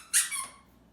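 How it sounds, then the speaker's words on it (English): A squeaky pig toy gives a single sharp, high squeak that rings briefly and fades, close and alone. "squeaky pigs"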